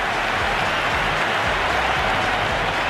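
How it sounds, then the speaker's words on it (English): A big cricket stadium crowd at an IPL match, RCB versus Gujarat, roaring and applauding after a six: a dense, steady wash of cheering and clapping with no pause. "The crowd is electric right now."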